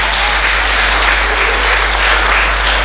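Worshippers in a church fill the space with continuous, loud clapping and cheers for Jesus, an even wall of applause lasting the whole moment without talk.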